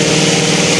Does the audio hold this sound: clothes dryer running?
yes